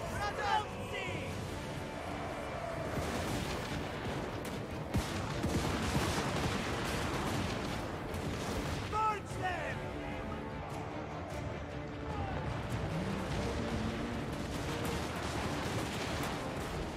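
Cannon artillery fires repeatedly in a Total War: Warhammer 3 battle, booming blasts scattered amid battle noise and a steady music bed, with someone talking over much of it.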